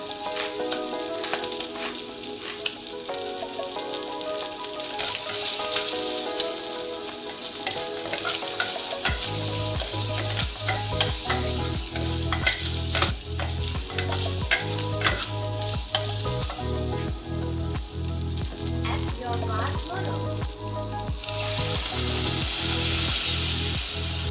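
Bacon fries in a pan with garlic, ginger and black pepper, a loud continuous sizzle with scattered crackles and utensil clicks, later joined by a steady rhythmic tonal backing.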